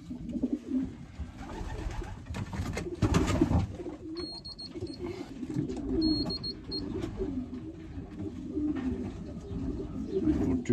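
Racing pigeons coo steadily in a loft shed while being basketed for training, a continuous low burbling chorus close by with occasional wing flutters and faint chirps.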